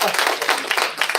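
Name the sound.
audience clapping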